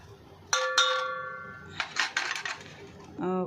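A metal spoon clatters and scrapes inside a pot as ground peanuts, sugar and water are mixed, with bright clinks and rattling strokes, close and fairly loud, ending in a brief swirling slosh.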